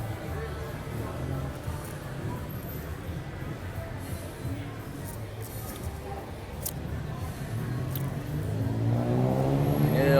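On a busy Bangkok street, a vehicle engine hums under steady traffic noise and swells into a louder rev near the end, with people talking faintly.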